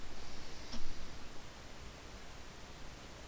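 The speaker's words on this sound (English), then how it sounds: "White noise." Flat, hissing white-noise static from a horror video game fills the whole stretch at low level, with a faint tick near the start and no voices.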